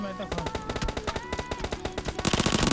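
Rapid automatic gunfire in the video game PUBG Mobile, a rhythmic string of sharp, loud shots in quick bursts that grows denser and louder toward the end.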